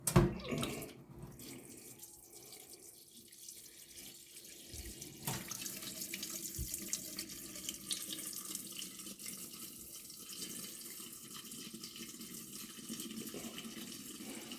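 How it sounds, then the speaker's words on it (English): Liquid drains steadily from an opened tap on a Mountfield SP536 lawnmower that had been stored for over nine years, a close, continuous splashing trickle that grows fuller partway through and carries on alone without talk. "Let's open the tap up and start draining it out."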